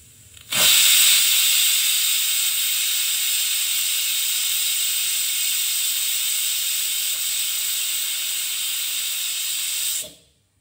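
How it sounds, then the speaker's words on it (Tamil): A pressure cooker cooking soaked rice releases steam in one loud, continuous hiss lasting about ten seconds, starting abruptly and cutting off sharply, close and alone. "ஒரு விசில் வந்தது போதும்."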